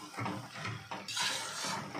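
Chicken being stirred in a cooking pan, with a utensil scraping and clinking against the metal in a steady run of strokes. The stirring is close and fairly loud, and a soft sizzle sits underneath.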